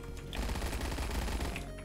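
A PPSh submachine gun rattles off a continuous burst of rapid automatic fire in the Phantom Forces shooter game, loud and close with dense overlapping shots.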